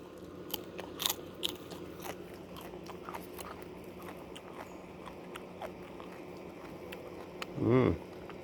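Crisp bites and crunchy chewing of a freshly picked garden vegetable, close and quiet against outdoor background sound, ending in a louder burst.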